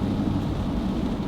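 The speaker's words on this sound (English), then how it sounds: "Rain, rain, and more rain." Steady heavy rain with a low rumble of thunder, loud and continuous with no talk.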